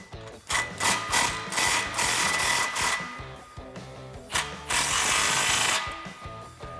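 Close metallic ratcheting and tool clatter from tightening a clamp on a Pypes Phantom Series H-Bomb cat-back exhaust fitted to a 2018-2019 Mustang GT, in repeated short bursts with brief pauses between.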